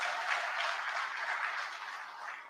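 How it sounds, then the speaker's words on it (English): A crowd at a political public meeting applauds in a dense, continuous wash of clapping that holds steady before easing slightly toward the end. "Let's give him a round of applause."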